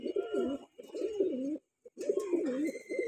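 A Punjabi Malwai pigeon coos close by in three rolling, throaty phrases, with a brief quiet pause before the last.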